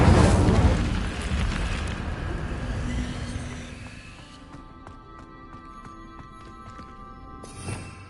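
An Incendio fire spell in Hogwarts Legacy on PS5 gives a loud whooshing, roaring burst that fades over several seconds, leaving faint game tones and a small late thud.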